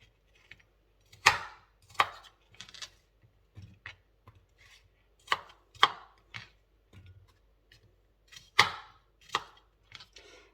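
Sharp, distinct knife chops through apples on a cutting board, irregular clusters of crisp strikes with quiet gaps between, close and clear with no talking.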